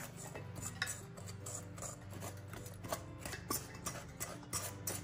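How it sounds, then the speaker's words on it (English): A fork scrapes and taps against a bowl while mixing flour, brown sugar and seasonings for a sweet potato casserole, breaking up sugar clumps with quick irregular clicks over a low steady background hum. "I like to use a fork for this to kind of just get down in there and get any of those brown sugar clumps ground down"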